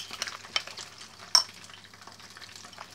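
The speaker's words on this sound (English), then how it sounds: "then you put cooking oil, we're done, and then we mix this" Chili sauce ingredients being mixed with cooking oil for a Korean-style sauce: soft wet stirring and scraping with a few sharp spoon taps against the bowl, close and fairly quiet, no voices.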